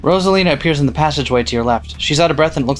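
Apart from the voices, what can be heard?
No everyday noise stands out behind the speech.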